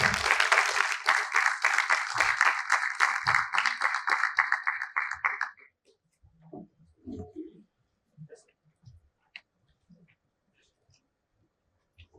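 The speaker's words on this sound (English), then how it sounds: "Let's have a big round of applause for all of them." An audience claps loudly for guests on stage at a panel event, a dense burst of applause for about five seconds that quickly dies away into quiet room noise and a few scattered taps.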